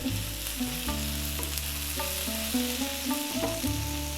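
Chopped garlic and ginger frying in a pan for Kerala egg roast, with a steady sizzle under a stronger tonal musical bed, no voices.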